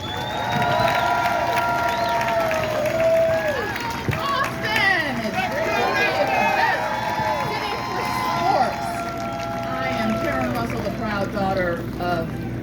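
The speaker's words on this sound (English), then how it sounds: "Please join me in welcoming and giving a warm round of applause to Karen Kenyatta Russell" A crowd at a rally marking sixty years since the 1965 freedom movement welcomes a speaker. Cheering and clapping carry on steadily for the full twelve seconds, with many voices whooping and calling out over the applause.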